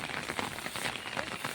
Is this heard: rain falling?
yes